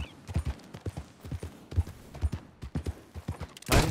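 Horse hooves clip-clopping at a steady trotting rhythm in the video game Red Dead Redemption 2, close and clear, ending with a sudden loud burst of noise; no speech.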